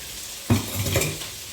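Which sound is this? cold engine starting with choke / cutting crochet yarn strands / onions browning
onions browning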